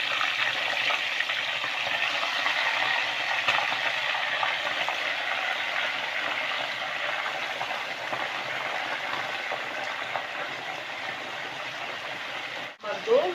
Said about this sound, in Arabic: دلوقتي الزيت على السمنه قدحوا، هبدا بقى انزل بالفراخ اللي عندي